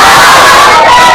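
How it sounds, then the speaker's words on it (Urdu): Large crowd at an Islamic religious gathering in Karim Town, Multan, shouting back in unison to a slogan, a loud dense roar of many voices filling the whole moment. "ان کے آنے سے پہلے ایک زوردار نعرے کا جواب دیجیے۔"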